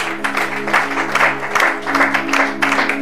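A church congregation applauding during a French Bible study on Exodus, steady clapping from many hands over a constant low tonal hum, close and fairly loud.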